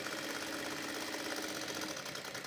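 A sewing machine stitches a work blouse, giving a continuous, loud, dense whirring that holds steady throughout, with no voices.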